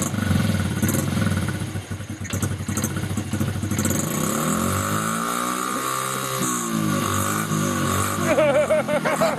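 A small motorbike engine runs with too much choke, idling unevenly and revving with a clattering buzz. The revs rise and fall, and a voice speaks briefly over it.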